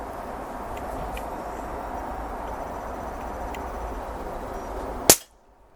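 A single sharp report from an Umarex air pistol, the tenth and final shot of its magazine, cracks out loud and close near the end, over a steady broadband hiss, then drops to near silence.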